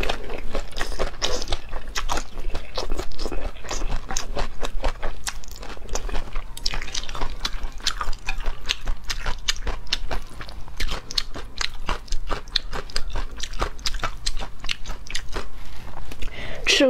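Crunchy bites and wet chewing of cold noodles mixed with sliced cucumber and carrot, close to the mic in a steady, continuous stream of crisp crunches and slurpy squishes.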